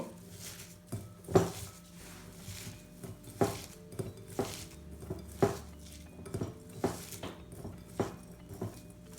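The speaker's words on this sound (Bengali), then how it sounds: "প্রথমে আমরা অনিয়ন কুচি কাঁচামরিচ হলুদের গুঁড়া এবং লবণ এক চা চামচ দিব ভালো করে একটু পিষে নিব" Chopped onion, green chili, turmeric and salt mashed in a bowl for an egg roll, giving irregular sharp clinks and scrapes of a utensil against the bowl, close and fairly quiet, with no talking.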